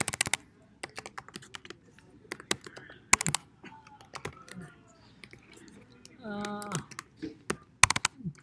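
Computer keyboard keys clack in irregular bursts while someone types standing up, close and crisp, with brief pauses and a short murmur of voice in between.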